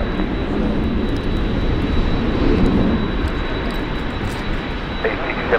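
Steady roar of an Egyptair airliner's jet engines at Manchester Airport, a loud continuous rumble with a thin high whine on top, heard from nearby with a few voices underneath.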